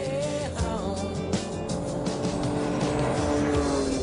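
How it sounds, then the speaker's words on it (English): A Ferrari 599GTB drives over a rutted washboard road with a steady, loud engine drone and a constant rumble, plus faint intermittent tyre noise, throughout. "The Ferrari doesn't seem to be worrying at all about these ruts."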